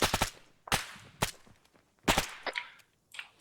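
Rapid bursts of gunfire ring out near a hangar during a mission, loud close volleys of several shots each separated by short pauses, with fainter shots trailing at the end.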